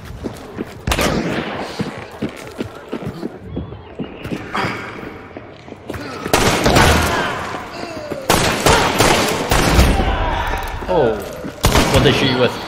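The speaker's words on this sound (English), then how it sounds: "What'd they shoot you with? Springfield." In the video game Hunt: Showdown, sharp Springfield rifle shots and other gunfire crack out in irregular bursts amid game clatter and movement, loud and close, with players talking over the action.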